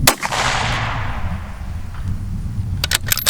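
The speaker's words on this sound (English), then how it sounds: "Follow-up shots, quick and easy." Rifle shots fired from a rear rest bag, a loud close crack with a long decaying roar, then a quick cluster of sharp reports near the end.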